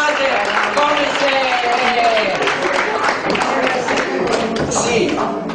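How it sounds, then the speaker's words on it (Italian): Audience applause at a live Italian cultural association evening, a dense wash of clapping from a crowd that runs continuously, with voices talking and murmuring over it. "Fate un applauso"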